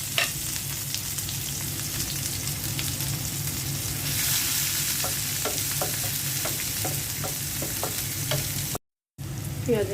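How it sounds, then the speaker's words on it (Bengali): Onions go into oil left from frying pabda fish, hissing in a strong, continuous sizzle, with a run of sharp scraping stirs of a spatula in the pan during the second half. "এখন মাছ ভাজা তেলের মধ্যে পেঁয়াজ দিয়ে দিচ্ছি।"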